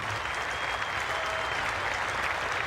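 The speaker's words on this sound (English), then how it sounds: "And a big cheer there for Border." A cricket crowd at the Adelaide Oval in a 1991-92 Test match between Australia and India cheers and applauds steadily, a dense and even wash of clapping heard from a distance.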